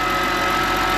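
A BMW 128i engine idles steadily while warming up, a close, continuous low hum with a slight uneven wobble and no voices over it.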